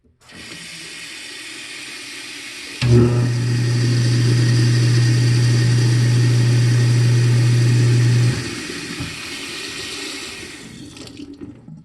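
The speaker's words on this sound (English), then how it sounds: "Now that we have removed the object and loosened the jam, the next step we want to do is test the disposal." A sink-mounted garbage disposal, just cleared of a jam, starts abruptly and runs with a loud, steady motor hum over rushing tap water for about five seconds, then shuts off while the water keeps flowing. No one speaks.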